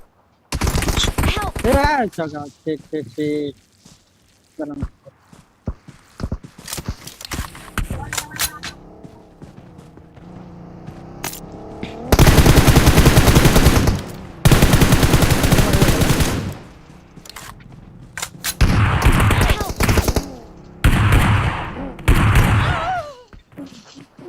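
Video game gunfire: repeated sharp shots and long sustained automatic bursts, loud and close, mixed with the players talking excitedly.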